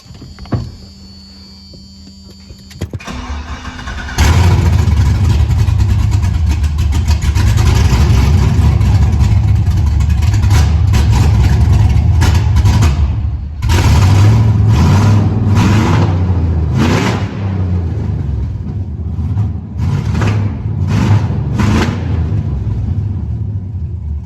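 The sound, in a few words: car engine revving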